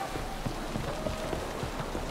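Steady rainfall in The Witcher 3: Wild Hunt, a soft continuous patter of drops on surfaces with faint irregular taps mixed in, fairly quiet and even throughout, with no voices.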